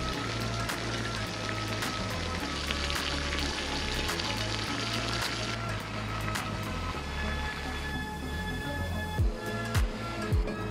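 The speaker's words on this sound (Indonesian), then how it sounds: "Airnya sudah mendidih ya, di menit 5 menit 25 detik" Water boils in a pot on a small Trangia spirit burner camping stove, a steady dense bubbling and hissing roll with scattered sharp pops and clicks, close and continuous.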